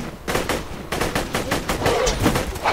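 Rapid gunfire from a fire-element weapon in Borderlands 2, a loud, steady stream of close shots in quick rhythm with no talk over it.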